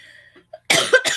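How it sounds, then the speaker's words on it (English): A single close cough, abrupt and breathy with a short second burst, heard indoors during a relaxed crafting session, preceded by faint quiet sounds. "I didn't mean to cough in your face."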